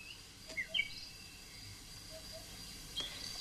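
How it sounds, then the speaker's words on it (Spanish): An azure-winged magpie at its nest woven into the fork of a holm oak in Mediterranean woodland gives a few faint, brief chirps, mostly around the start and near the end, over a quiet rustling background. "Aquí un rabilargo, bonito, inteligente y sociable pájaro, que aparece solamente en una fase de su incubación"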